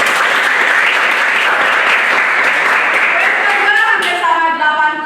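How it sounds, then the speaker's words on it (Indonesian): Loud, dense applause from a classroom crowd of many hands, steady throughout, with a voice rising over the clapping near the end. "berikan tepuk tangan dulu teman."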